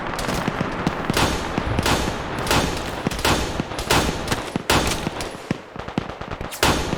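A video game PvP firefight crackles with repeated gunshots, sharp reports and rapid bursts overlapping at mixed distances, loud and continuous with no talk.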